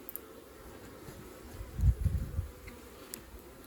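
Faint, low hum of honey bees at an open hive during maintenance, a soft steady drone that swells briefly in the middle before settling back.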